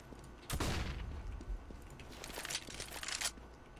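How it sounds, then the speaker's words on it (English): A flashbang grenade detonates in a tactical shooter game with a sharp, loud burst, followed by dense crackling and rumbling blast noise that swells again near the end, all close and without talk. "Throwing flashbang."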